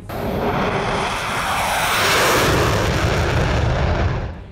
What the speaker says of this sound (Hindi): तुर्किया साख्ता जंगी तैयारे हुरजेट ने पहली परवाज़ भर ली।